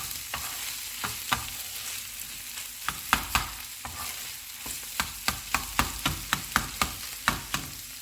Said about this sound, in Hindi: कीमे को मैंने अच्छी तरह भून लिया है